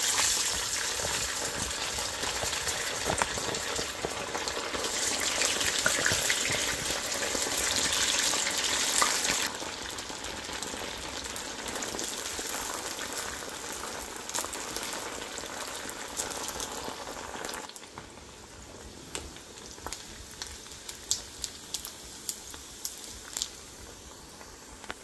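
Idli pieces deep frying in hot oil for idli Manchurian: a dense, steady bubbling sizzle that stays loud and close throughout, easing slightly partway, with a few faint clicks near the end and no talking.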